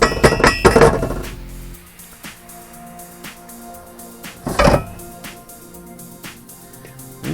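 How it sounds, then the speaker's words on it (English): Pumpkin seeds dropping into a pot make a clustered rattle and clink at first, followed by scattered lighter taps and clatters, with quiet gaps between them. "what we're going to do next is we're going to put the seeds in a pot"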